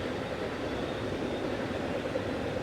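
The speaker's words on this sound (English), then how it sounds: "So it's our first train in the evening." A train passing in the evening near an urban campsite by a lake, a steady broad rumble and roar of rolling wagons at moderate distance that holds evenly throughout with no talk.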